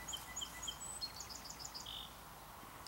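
Distant, faint bird song in a sedge meadow: a run of many thin, high notes, then a short lower trill, over steady breezy background hiss.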